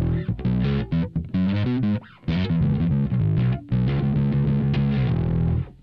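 Bass guitar run through a Fender Downtown Express with its compressor placed before the overdrive, giving a thick, gritty, driven tone. A continuous riff of sustained notes plays loud and alone, broken by a few brief gaps.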